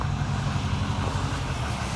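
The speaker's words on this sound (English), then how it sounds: "That beautiful exhaust." A 2022 Chevy Silverado 3500HD High Country with the Duramax diesel idles at its exhaust, a steady, low, rumbling drone with faint tonal pulsing and no voices.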